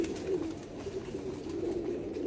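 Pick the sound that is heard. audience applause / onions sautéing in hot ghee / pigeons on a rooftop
pigeons on a rooftop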